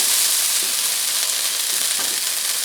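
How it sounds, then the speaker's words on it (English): Beef steak browning in a frying pan for Swiss steak, with a steady, dense sizzle and crackle of frying fat that runs evenly close up throughout, with no voices. "I'll flip the meat and let it brown on the other side"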